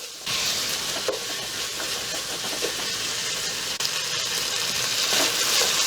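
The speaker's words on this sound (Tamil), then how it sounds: "பீஸை இதே லைட்டாக ஒரு ஃப்ரை பண்ணிக்கலாம்." Green peas fry lightly in a hot pan for a pulao, giving a steady, close sizzle that holds evenly from start to finish with no talk over it.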